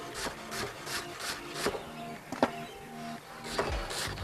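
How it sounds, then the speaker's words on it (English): A knife chops an onion finely on a board in a home kitchen, with a quick irregular run of light tapping cuts close by. "you're going to want to finely chop an onion as well"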